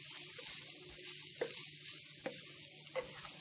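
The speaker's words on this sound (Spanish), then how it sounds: "Y vamos a revolver muy bien." Spaghetti with herbs and salt stirred in a pan, a quiet sizzle with three soft, evenly spaced scrapes of the utensil.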